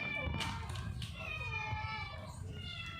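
Several cats meow repeatedly in a high, wavering pitch, close by and fairly faint, while a person talks softly nearby.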